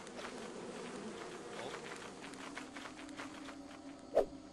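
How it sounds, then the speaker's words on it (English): Faint, steady buzzing of bees fills a quiet scene in the video game Lethal Company, with a brief louder click near the end. "Oh God, there's bees in there."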